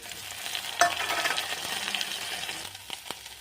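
A pan sizzles steadily as ginger-garlic paste fries with onions, with a clank of a utensil early on and a few sharp taps near the end.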